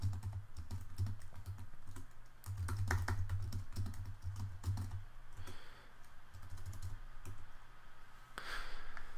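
Rapid, light keystrokes on a computer keyboard as a line of Swift code is erased, tapping in quick bursts with short pauses, close and fairly quiet, with no talking.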